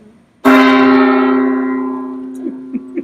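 A gong struck once rings out loud and near, its bright shimmering tone ringing and slowly fading for a couple of seconds, followed by a few small taps.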